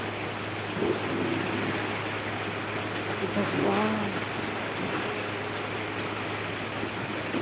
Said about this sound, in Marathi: किती पाऊस येत आहे पण जोरात